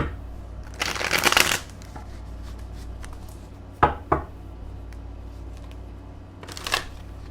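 Deck of playing cards being shuffled: a crisp riffling burst near the start, a pair of sharp card snaps midway, and another short riffle near the end, all close and fairly quiet over a faint background hum.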